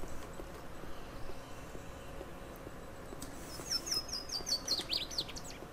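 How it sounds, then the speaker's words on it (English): Faint background ambience in a video game with a short series of high, rapid bird chirps appearing in the second half. "It's a little hard to be scared when I hear birds chirping."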